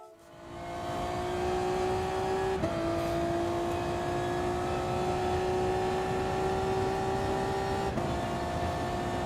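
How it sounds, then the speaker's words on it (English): Race car engine in the Gran Turismo Sport video game, droning loud and steady down a straight, pitch climbing through gears with two audible shifts and no talk over it. "going down the straight, and you can hear the engine sounds"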